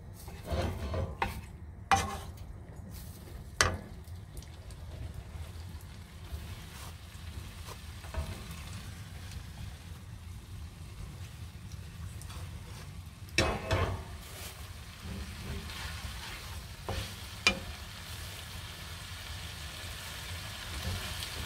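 Browned meat stirred back into a pot of taco soup at a camp stove in a cargo trailer, a soft continuous sizzle with scraping strokes and occasional sharper knocks, no talking.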